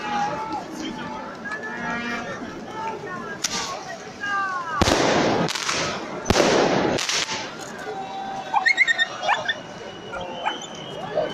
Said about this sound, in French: Le chien, il a peur, le cocker, il est beau.